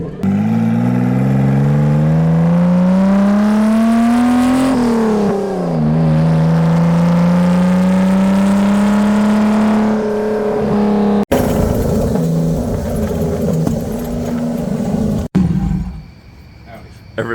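A car engine roars and revs hard in a second-gear burnout at Hot Rod Drag Week 2024, pitch climbing and dipping, with loud sustained tire-spinning noise close by, then cuts to rougher rumbling.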